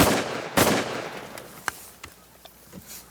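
During a waterfowl hunt, a loud shotgun blast rings out early and is followed by several fainter, more distant shots spaced irregularly over a few seconds, with an outdoor wash of background noise.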